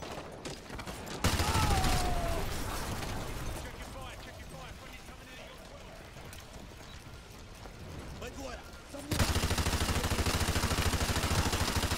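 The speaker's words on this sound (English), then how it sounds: "Just fucking shooting willy nilly here" Dense automatic gunfire in the Call of Duty Modern Warfare 2 Campaign Remastered, rattling in loud sustained bursts at the start and end with quieter scattered shots between, while a voice talks over it.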